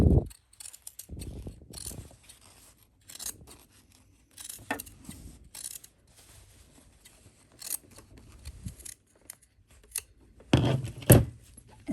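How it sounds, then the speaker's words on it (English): Scissors trim the fabric seam allowance on a pants fly front zipper, making sparse, irregular snips spread across the stretch, with a tight cluster of louder cuts near the end and quiet gaps between. "we're actually going to trim this seam allowance down"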